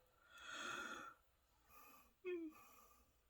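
A woman yawns twice while doing cross-stitch: a long breathy open-mouthed exhale first, then a shorter voiced yawn that rises into a sighing tone, both close and fairly quiet.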